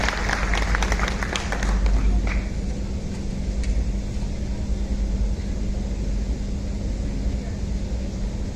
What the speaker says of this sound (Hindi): जोरदार तालियां मलिक साहब।